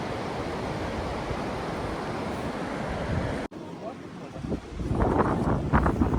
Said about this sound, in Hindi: नदी का आवाज़ से ना मुझे ट्रिप आ रहा है,